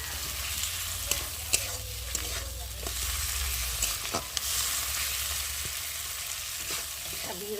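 Spice masala with garlic fries in a pan for a chicken dish, a steady hissing sizzle punctuated by sharp scraping taps from a stirring spoon, close and continuous.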